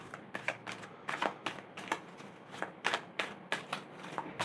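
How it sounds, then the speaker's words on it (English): A deck of tarot cards is shuffled by hand, giving a rapid run of crisp, close riffling and slapping bursts in an irregular rhythm, with no talk. "let's do another shuffle"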